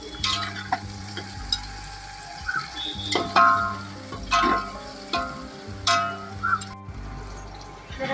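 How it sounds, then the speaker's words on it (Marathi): Potatoes and onion roasting together in a pan for kande pohe in a village kitchen, a low sizzle under repeated spatula scrapes and occasional metallic clinks, close and steady. "बटाटे कांदा आणि बटाटा एकत्र शेकत आहे"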